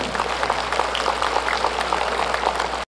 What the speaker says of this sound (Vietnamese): Xin quý ngài quý vị cho chúng con 4 tràng pháo tay nữa.